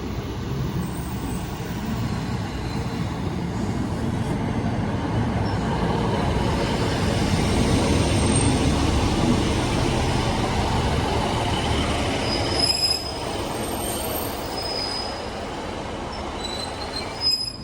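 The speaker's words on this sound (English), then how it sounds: "here we have an East Midlands Railway service terminating in from Matlock. It's going to be a 156" An East Midlands Railway Class 156 diesel unit pulls into a station from Matlock, a steady rumble of wheels on rail with squealing flanges and brakes, fairly close and continuous.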